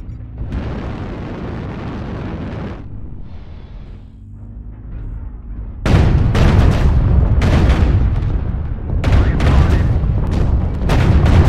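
Artillery strike explosions in a faction-based video game: a first burst of rumbling blasts, a lull, then a dense volley of loud, close booms with sharp cracking impacts over the final six seconds.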